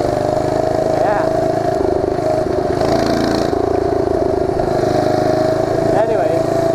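A mini bike engine with a flame-shooting muffler runs steadily at night, a constant nearby droning hum with slight rises in revs, and someone talks over it throughout.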